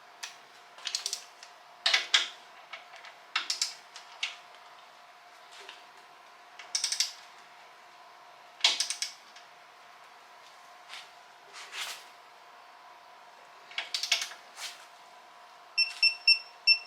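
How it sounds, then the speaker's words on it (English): A torque wrench tightens steering gear bolts on a 1969 Oldsmobile Cutlass, sounding as bursts of quick ratcheting clicks repeated many times, close and fairly clear over a faint steady hum. "Now you are supposed to torque these to 80 foot-pounds."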